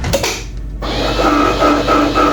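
Kitchen blender churning honeydew melon and watermelon pieces, a loud whirring motor that cuts out briefly near the start, then restarts and runs on with a strained, rising and falling drone.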